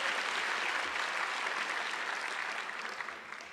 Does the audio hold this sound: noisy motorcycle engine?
no